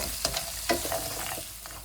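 Shrimp frying in a pan for fettuccine Alfredo: a quiet, steady sizzle broken by a few light stirring taps, heard up close with no talking.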